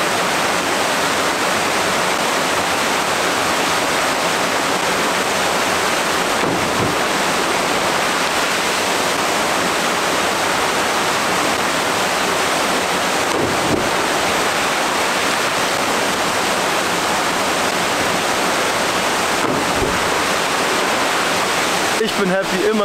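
Constant roaring rush of falling water at a waterfall near a submarine bunker cliff-jumping spot, loud and broadband, with a few brief thumps along the way.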